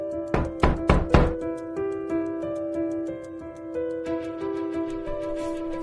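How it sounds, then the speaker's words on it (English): Loud knocking on a door, three or four heavy close raps in quick succession, followed by sustained melodic background music. "a loud knock ruined the peace"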